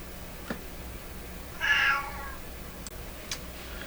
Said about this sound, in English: I have to go sit with my cat for a while.